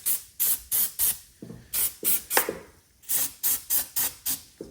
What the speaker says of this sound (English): And this stuff sprays out.